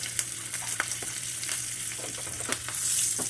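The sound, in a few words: tempering ghee with chillies and asafoetida crackling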